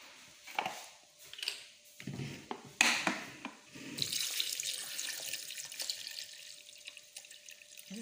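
Water runs and splashes into a blender jug, starting with a few clinks and drips, then a steady pour that fills it with half a litre.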